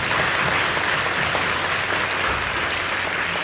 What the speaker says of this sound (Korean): 우리 멀리서 함께 예배하는 분들에게 박수로 먼저 격려하겠습니다.